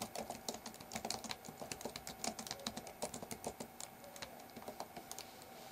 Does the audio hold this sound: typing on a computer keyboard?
yes